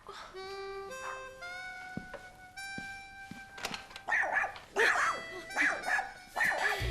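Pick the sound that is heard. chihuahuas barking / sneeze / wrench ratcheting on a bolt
chihuahuas barking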